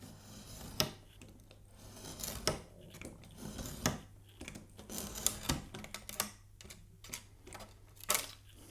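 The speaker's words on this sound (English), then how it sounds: "So this is a piece of 180 sandpaper on a block." A 180-grit sandpaper block is rubbed over wood veneer for a guitar build, giving close, uneven rasping scrapes in short irregular strokes with a few sharper knocks from the block.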